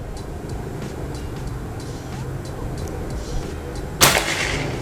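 Predator OD 38 air rifle fired at a target during an accuracy test, a single sharp crack near the end over a quiet background hum.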